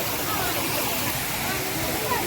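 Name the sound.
curtain-style waterfall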